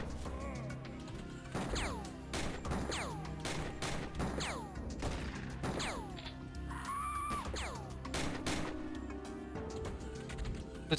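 Reaction-fire gunshots in the X-piratez video game, several sharp cracks and bursts spread through a busy, loud game soundscape, with no one speaking.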